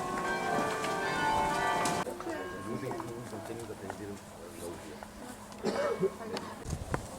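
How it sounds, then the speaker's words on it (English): Church bells ring in a dense, resonant peal for the first two seconds at 10 o'clock on Easter morning in Enkhuizen, then fade into a quieter ambience with distant voices and light clatter. "It's precisely 10 o'clock, so I think they're doing a bell concert"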